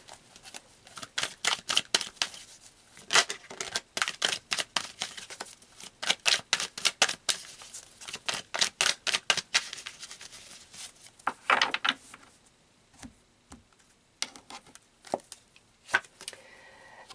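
A deck of tarot cards being shuffled and pulled, rapid riffling card flicks in bursts with pauses between, close and crisp, then slower single snaps and slides toward the end.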